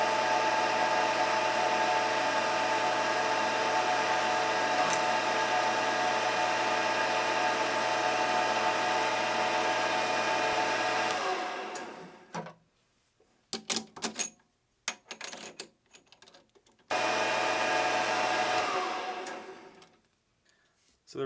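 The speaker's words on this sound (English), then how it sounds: "we'll polish it with some Mother's mag polish" A metal rod for a Coleman lantern check valve removal tool is polished with Mother's mag polish, a steady machine whir running for about eleven seconds, then scattered clicks and rubbing before the whir briefly resumes.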